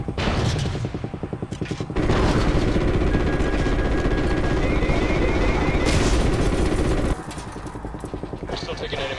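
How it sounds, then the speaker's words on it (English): Anti-aircraft gunfire in a Call of Duty battle over the Campeche oil field in the Gulf of Mexico, dense rattling bursts and booms with engine drone, loud and continuous, voices talking over it. "We're still taking enemy AA fire from behind the smokestacks"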